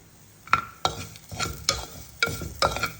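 A spoon stirs turmeric and asafoetida in a hot cooking pan, giving a series of about six sharp scraping clicks over a soft sizzle, close and distinct.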